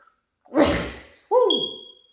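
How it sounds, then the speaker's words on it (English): A single sharp human sneeze bursts out in a home interior, followed right after by a loud whooping exclamation from the same person. "I got a sneeze."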